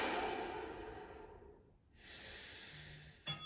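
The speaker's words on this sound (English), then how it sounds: "take a deep couple of breaths" Two slow, deep breaths, a long soft exhale, a pause, then another airy breath, ending in a short sharp sniff or snort. The breathing is close and quiet, set in a calm stretching session.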